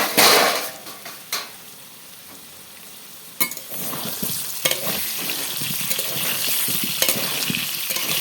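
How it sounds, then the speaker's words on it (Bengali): Potatoes frying in a pan with a continuous crackling sizzle, broken by a few sharp utensil clinks and stirring scrapes, close up with no talk. "আলুটা ভাজা হচ্ছে।"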